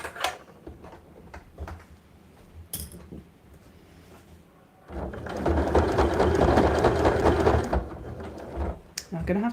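Janome sewing machine fitted with a non-Janome foot, stitching a side pouch: after quieter scattered clicks and handling, a close, steady burst of rapid mechanical whirring runs for a few seconds.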